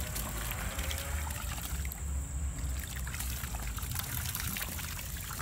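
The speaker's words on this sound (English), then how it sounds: "Look at all that water go everywhere." Water pours and splashes continuously into a swimming pool as children play, producing a steady, fairly close, broadband rushing wash with brief splashy bursts and no talk.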